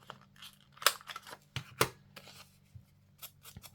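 Scissors snipping paper while trimming and rounding the edges of a junk journal ephemera folio, with a few crisp, close cuts among quiet rustling and no talk.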